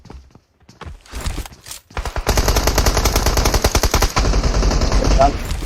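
PUBG Mobile gunfire: a few scattered shots, then loud, rapid automatic fire continuing steadily and close, with faint background voices.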